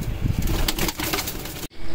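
Pigeons coo softly near their eggs and a brief rush of flapping wings follows, close by, ending in a sudden cut.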